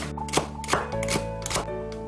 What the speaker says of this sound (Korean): 대파 반대도 송송 썰어주세요.